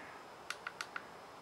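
Four crisp plastic clicks from the button on a Zhiyun Smooth Q handheld gimbal, spaced in an uneven rhythm, close and distinct against quiet background hiss.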